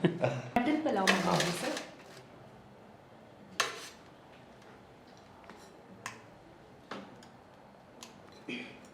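A home-cooked non-vegetarian meal is served: plates and cutlery clink and clatter close by, with a burst of scraping early on and then sparse sharp taps, under quiet indoor talk.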